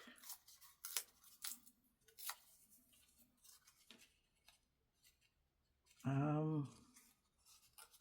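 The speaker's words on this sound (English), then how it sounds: "So I'm going to rip it the other way." An index card is ripped by hand, giving a few short, crisp tearing bursts close by, followed by a brief spoken voice near the end.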